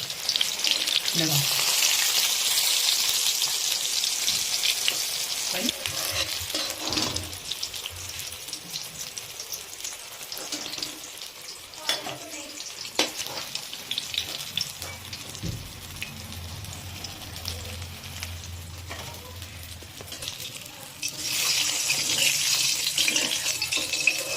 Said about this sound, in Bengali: ফাইনালি কিন্তু এই মাছগুলো ভাজা হয়ে গেল